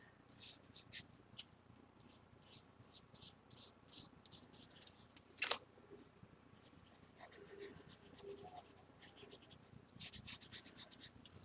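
A woodless graphite pencil scratching across paper in quick repeated strokes, close and dry, pausing between bursts with one sharper tap near the middle.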